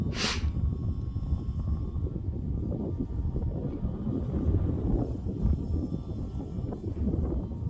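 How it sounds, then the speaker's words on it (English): Strong, cold high wind buffets the microphone outdoors while a 3D-printed Sportster kite is flown: a steady, loud low rumble with gusty roaring that runs unbroken throughout, and no voices. "It's pretty hard to land in this wind."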